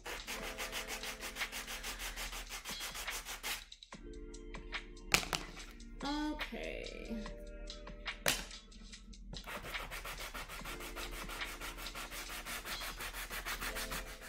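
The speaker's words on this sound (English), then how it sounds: "Sanding blocks are the best." Hand sanding with a sanding block while making puppets, a close, steady scraping rub with rhythmic strokes that pauses briefly midway, with a short spoken word during the gap.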